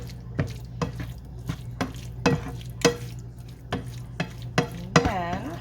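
Ground beef mixture for a freezer meal being stirred in a dish, giving a run of soft, wet scraping and thudding strokes at a steady rhythm, close by, with a brief squeaky clatter near the end.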